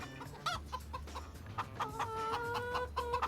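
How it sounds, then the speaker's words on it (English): Chickens cluck and murmur in a Farming Simulator 25 farmyard, soft repeated clucks with a few higher calls over a low steady hum, fairly quiet with no talk. "You don't sound like chicks. You sound like grown-up chickens."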